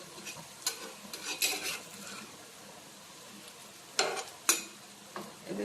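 Poppyseed fritters frying in hot oil, a soft continuous sizzle broken by several sharp scraping and clinking stirs of a utensil against the pan, close and without talk.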